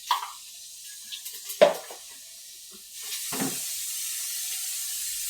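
Whole spices, including fennel and kasturi methi, hit hot oil with a few sharp clinks and spatters, followed by a steady soft sizzle that builds and holds.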